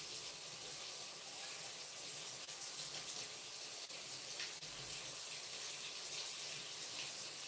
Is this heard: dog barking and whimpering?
no